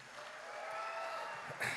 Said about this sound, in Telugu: అందరూ ఒకసారి తనకి క్లాప్స్ కొట్టండి